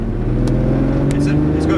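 A Lamborghini Gallardo on the Hampton Downs race track in Auckland gives off a steady, loud engine drone with strong low harmonics, while a voice talks over it throughout.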